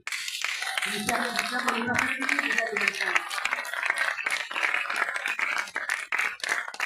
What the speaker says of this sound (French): Les applaudissements sont timides dans la salle.